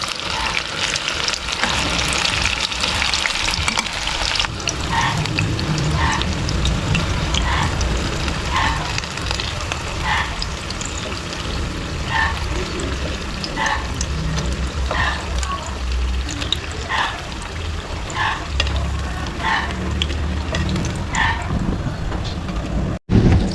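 Tofu frying crispy in a pan, a steady loud sizzle and crackle throughout, with scattered stirring clinks and a voice speaking now and then.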